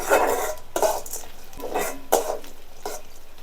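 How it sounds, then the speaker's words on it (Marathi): Onion and chana dal being sautéed in a pan for a Maharashtrian masvadi curry, heard as a soft background sizzle broken by repeated scraping stirs of a spoon against the pan, close and rhythmic. "तर डाळ आपल्याला दोन मिनिटं परतून घ्यायची आहे"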